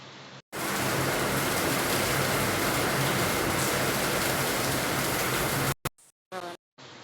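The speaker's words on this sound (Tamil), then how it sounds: "மழை பெய்யுது, சத்தமா இருக்கு." Heavy rain pours down in a loud, steady hiss that starts abruptly and holds for several seconds, then cuts off, followed by a few brief scattered sounds.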